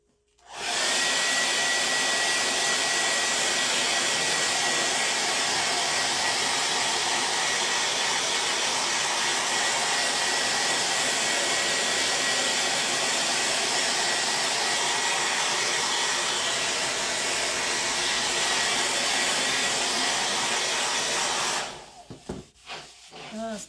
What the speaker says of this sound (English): I'm going to take the blow dryer to it for just a minute